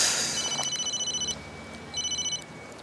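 A phone rings in two bursts of rapid trilling electronic tones, with a short gap between them, over faint background hiss.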